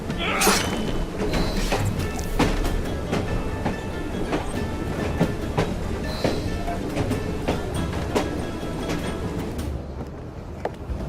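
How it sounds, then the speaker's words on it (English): A train runs steadily in Assassin's Creed Syndicate's Victorian London, a loud continuous rumble with rhythmic clacking and occasional metallic knocks, heard alone without talk. "at least we have a train now"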